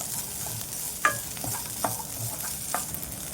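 Corn kernels fry in a pan under a steady low sizzle, punctuated by several crisp stirring knocks and scrapes of a spoon against the pan, with no voices.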